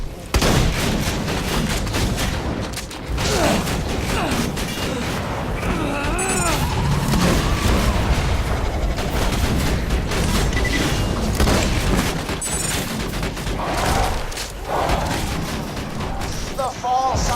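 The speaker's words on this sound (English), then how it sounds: "This is a job for the turret." Axton's deployable turret firing in the video game Borderlands 2: continuous rapid gunfire mixed with heavy booms and mechanical clatter throughout, with voices talking over the dense combat noise.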